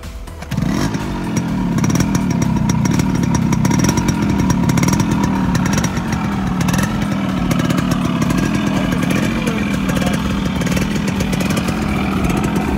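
A modified 1988 Yamaha RX100 two-stroke motorcycle engine in Ranchi starts and runs loud and close, a raspy buzzing exhaust note rising and falling through repeated revs with a continuous crackly roar.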